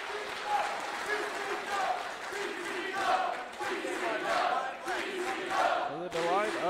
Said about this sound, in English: To the delight of the Columbus crowd.